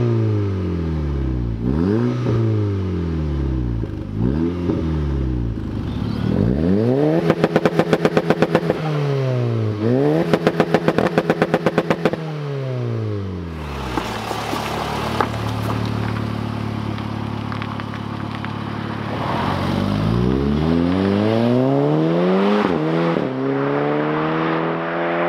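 A Stage 3 tuned Audi S3 8P rated at 455bhp accelerates hard through the gears, engine note sweeping up repeatedly with rapid shifts and crackling pops between them, loud and close from inside the car, with no talk.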